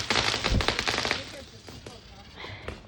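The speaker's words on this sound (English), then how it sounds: "Here's fireworks over here." Fourth of July fireworks burst and crackle in a dense rapid volley, loud at first and then thinning into scattered pops and distant bangs, with faint background voices.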